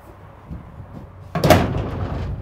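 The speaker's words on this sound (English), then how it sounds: "This is a great little slam latch to lock it into place" The slam latch on the center gate of a 2020 Cimarron Lonestar stock trailer shuts with a single sharp metallic clank that rings and rattles off after soft handling noises.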